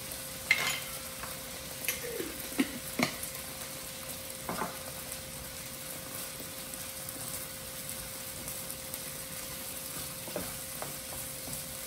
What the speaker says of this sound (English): Get my veggies all mixed in there really well. Got some nice color on my onions.